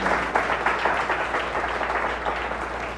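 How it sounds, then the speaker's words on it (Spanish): Steady, dense applause from a church congregation praising the Lord during a Sunday morning sermon, a continuous patter of many hands lasting throughout at an even, moderate level. "¿Alguien le da un aplauso fuerte al Señor en esta preciosa mañana?"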